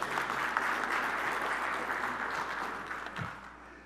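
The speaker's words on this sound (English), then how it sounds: "Let's give him a round of applause" Church congregation applauding a boy named Owen, a steady wash of many hands clapping that holds loud and then slowly thins toward the end, with no voices over it.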